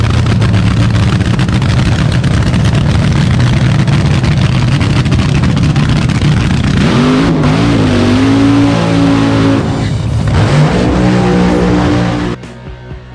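A drag racing car's engine roars at full throttle down the quarter mile, a loud, sustained blare whose pitch climbs and shifts before dropping off abruptly near the end.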